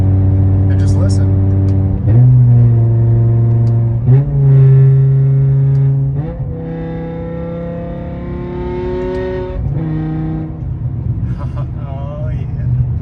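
A BMW E60 M5 drives close by, its engine note loud and strong as it climbs in pitch through several gears, easing back at each shift before pulling hard again.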